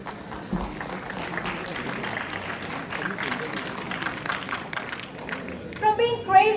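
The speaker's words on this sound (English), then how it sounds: "Let's welcome them with a huge round of applause." An audience applauds to welcome a college society's office bearers at a student event, steady clapping with crowd noise throughout, swelling louder near the end as cheering and voices rise.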